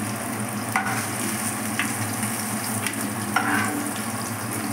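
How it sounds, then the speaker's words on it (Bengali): Paneer cubes fry in hot oil with a constant soft sizzle, broken by a few light clinks and stirs. "আমার পনিরগুলি লাল লাল করে ভাজা হয়ে গেছে।"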